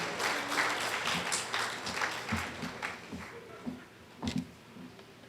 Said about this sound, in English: Please give a big round of applause for Ms. Shani Mohammed.